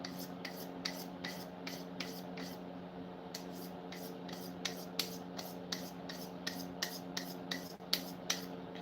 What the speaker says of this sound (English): continue sharpening this.